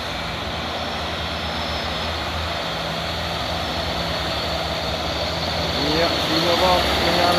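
A heavily loaded truck trailer climbs the steep Bukit Kodok hill, its engine a sustained low, droning roar that swells and strains louder near the end as it accelerates.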